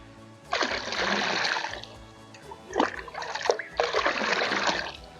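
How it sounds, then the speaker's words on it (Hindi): Liquid fertilizer solution for roses being swirled by hand in a bucket of water, giving splashy sloshing bursts in two or three waves with short pauses between them, close and moderately loud. "इसमें 2-3 दफ़ा इस तरह हिला लें ताकि फुल मिक्स हो जाए"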